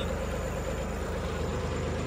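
A John Deere 5210 tractor with an upgraded engine running steadily close by, giving a loud, even, low diesel rumble with no talk.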